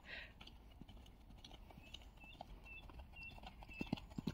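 A horse cantering at a steady, energetic pace during a training session, with faint rhythmic hoofbeats and occasional sharper thuds growing louder toward the end, over quiet outdoor background.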